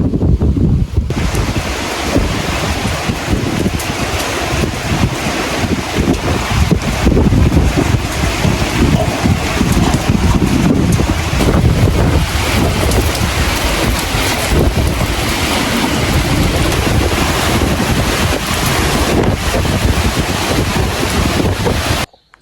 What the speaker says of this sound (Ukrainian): ох, вітерець, клас